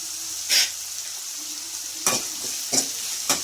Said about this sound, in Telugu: పసుపు కూడా వేసుకొని బాగా కలుపుకోవాలండి.